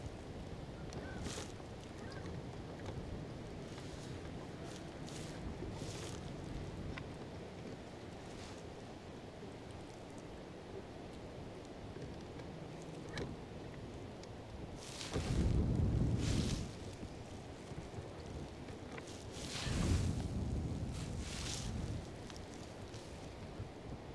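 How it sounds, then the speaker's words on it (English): Wind blows outdoors by the water during fishing, a steady rushing roar with a low rumble on the microphone that swells into stronger gusts twice. "Wind is slowing me down too much."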